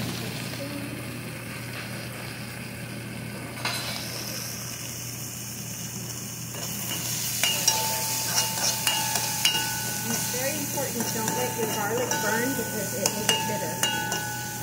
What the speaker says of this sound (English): It's already sizzling away,